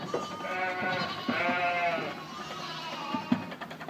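Sheep and ewes bleating on a farm, several overlapping drawn-out wavering cries close by, one after another with little pause.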